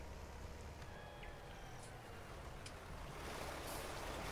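Waterfall in Farming Simulator 19 (Felsbrunn map), a continuous rushing wash of water with a few faint game tones, steady and fairly close.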